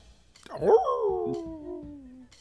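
A voice imitates a dog, letting out a whining, howl-like yelp that slides downward and trails off over about two seconds, close and fairly loud.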